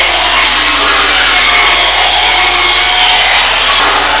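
A belt sander shapes wood with a loud, steady, unbroken whir of motor and abrasive belt, holding an even level throughout with no talking.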